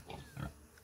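Young sow on a farm gives a couple of short, soft grunts close by, with no talk over them.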